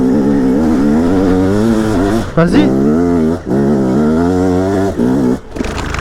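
A motorcycle labours up a very steep climb, its engine droning loudly and close with pitch rising and falling through revs and brief cuts, while a voice calls out over it.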